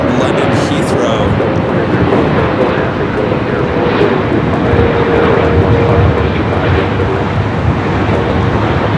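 American Airlines Boeing 777-300ER inbound from London Heathrow, heard as a steady, loud jet engine roar at Los Angeles airport with a faint whine running through it, and no clear speech over it.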